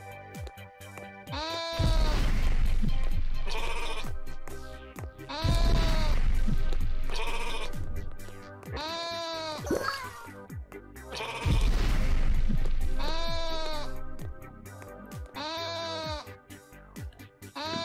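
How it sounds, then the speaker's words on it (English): A sheep in the video game Rain on Your Parade bleats repeatedly. Several loud, wavering calls come in clusters with short pauses between them. "So I've scared the sheep into doing something."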